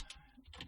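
Typing on a computer keyboard, a few quick, faint key clicks in a short burst, close and alone.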